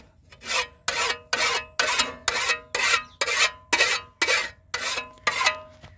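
A hand file rasps along an old chopper blade, sharpening it in about a dozen steady, evenly spaced strokes, each a loud, close scraping sweep.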